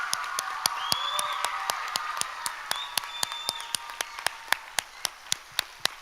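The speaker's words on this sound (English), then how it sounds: "let's give these 30 amazing young people another round of applause" A crowd applauds thirty young performers at an arts council show, the clapping steady and moderately loud, with sharp, evenly spaced beats running through it and a faint whistle-like tone rising above.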